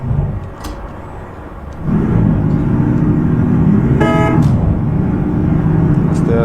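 A traffic jam in Euro Truck Simulator 2 on a Bangladesh map, with a steady engine rumble and a short car-horn toot near the middle, loud and close.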